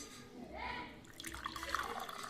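Water pouring into a glass, a soft trickling and dripping stream up close, with light liquid splashes building over a couple of seconds.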